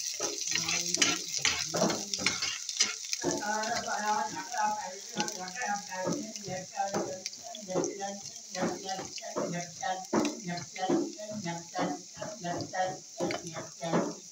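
Garlic sizzles steadily in hot oil, a constant crackling hiss running beneath a person talking close by.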